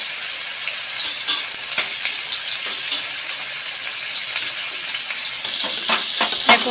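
Masala fish pieces fry in a small amount of oil, giving a bright, continuous sizzle with scattered pops and crackles that grow busier toward the end.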